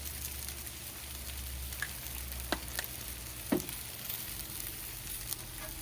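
Steaks and vegetables sizzle steadily on a Blackstone griddle outdoors in the snow, a continuous close frying hiss broken by a few sharp pops and light clicks.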